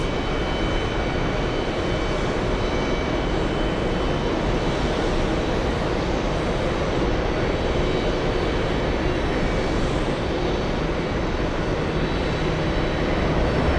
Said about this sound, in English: We have the Korean 7-4 taking off.